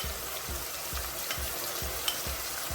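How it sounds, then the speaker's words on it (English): Saltfish frying in a pan with ackee for Jamaican ackee and saltfish, a steady close sizzle with soft rhythmic stirring scrapes repeating about every half second. "So now I'm gonna go ahead and add my saltfish."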